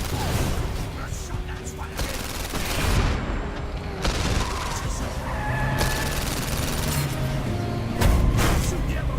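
Rapid bursts of Uzi submachine gun fire in the VR heist game London Heist, loud and continuous across the clip, with speech under the shooting.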